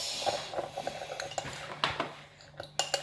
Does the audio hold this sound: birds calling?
no